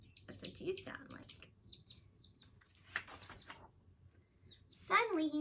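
A voice imitates birds, giving a string of short high chirps and tweets in quick bursts, then a pause and a final louder squeaky trill, close and alone against a quiet background.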